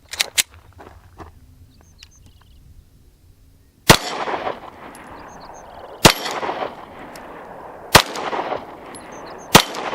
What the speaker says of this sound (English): I'm gonna try the spinner with a 9mm.